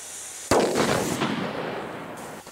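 Fireworks rockets are launched on the last day of 2018 with a sharp, loud bang, followed by a long, bright rushing hiss that fades slowly over two seconds, a faint pop closing the sequence.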